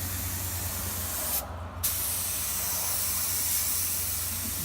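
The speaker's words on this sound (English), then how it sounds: "shooting some primer" A spray gun lays down a second coat of primer on a CNC mill enclosure in a steady, close, loud hiss. The spray breaks off briefly near the middle, then starts again and continues to the end.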